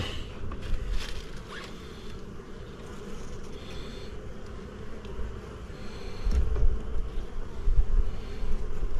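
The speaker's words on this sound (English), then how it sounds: "smoke them bees down a little bit. Maybe calm them down" Honeybees buzz steadily around an open hive being smoked, a dense continuous hum that swells louder toward the end, with faint handling noises.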